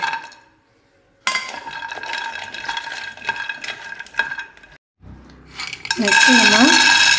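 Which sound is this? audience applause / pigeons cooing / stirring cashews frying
stirring cashews frying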